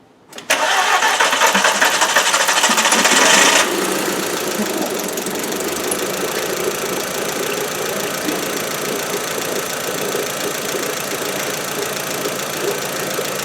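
A 2000 Volkswagen Beetle with a 1.8T engine and a suspected failed head gasket cranks but will not start. A loud, buzzing starter whir runs for about three seconds, followed by a steady, lower mechanical rumble.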